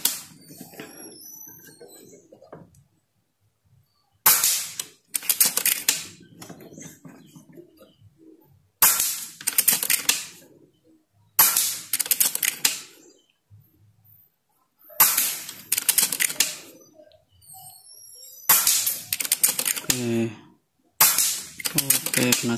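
An air rifle firing pellets at a metal silhouette target, heard as a series of sharp, loud cracks, each followed by a ringing metallic ping, spaced a few seconds apart, with quiet between shots.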